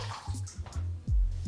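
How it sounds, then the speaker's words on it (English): Warm water runs into a bathtub, gurgling and splashing in uneven bursts with a deeper surge near the end, close and fairly quiet. "I then filled the bathtub with warm water and added a pint of bleach"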